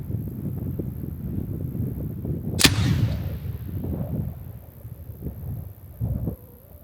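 A single sharp blast from an anti-personnel fragmentation hand grenade cracks out at some distance in Ukraine. Its rumble decays quickly against a background of outdoor wind noise.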